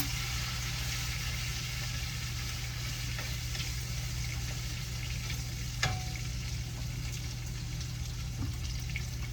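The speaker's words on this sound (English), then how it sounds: "Give our sausage and bacon a stir here." Sausage and bacon frying in a pan give a steady, continuous sizzle with an occasional faint scrape or clink as they are stirred.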